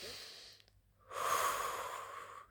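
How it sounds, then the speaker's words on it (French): A single slow exhale fades out, followed by a deep, loud inhalation close to the microphone, soft airy breathing with a brief pause between. "tu prends 3 longues respirations"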